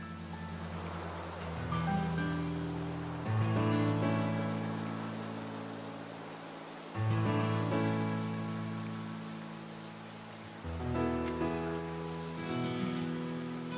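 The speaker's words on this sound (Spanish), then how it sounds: "Y empezó a llover todo triste." Rain falls steadily in the video game Pokémon Violet, a soft, even patter spread across the whole stretch beneath swelling in-game music.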